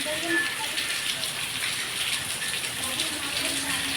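Steady hiss of rain falling on surfaces nearby outside a temple, constant and fairly soft, with faint voices in the background.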